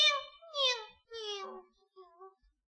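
A person imitates a cat's meow in several short, rising-and-falling vocal mews, clear and close, with a faint final one trailing off.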